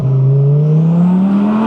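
Twin-turbo V10 engine of an Audi R8 Spyder, driven with the roof open, roaring loud and close as it steadily revs upward in one sustained acceleration with a rising whine.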